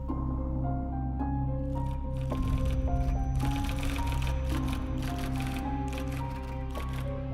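Typewriter keys clacking irregularly as a statement is typed, crisp close strikes in bursts, under a background of sustained tonal music.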